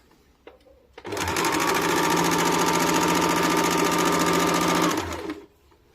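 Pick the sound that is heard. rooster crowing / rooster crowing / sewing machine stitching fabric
sewing machine stitching fabric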